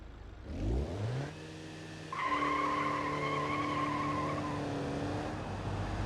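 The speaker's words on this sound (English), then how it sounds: "Do a burnout." A front-wheel drive manual car in BeamNG.drive revs up and holds a burnout, its engine climbing to a sustained high drone with tire squeal layered on top, loud and continuous with no talking.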